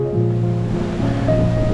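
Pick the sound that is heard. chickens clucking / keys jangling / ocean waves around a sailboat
ocean waves around a sailboat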